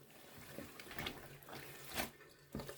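Water drains out of a portable washing machine in a soft, steady trickle with intermittent gurgling splashes, quiet and close, with no talking.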